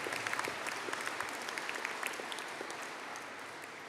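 A large graduation-ceremony audience gives steady, dense applause for graduates of the Faculty of Engineering & Informatics, heard as a continuous even wash of many hands at moderate level with no talking.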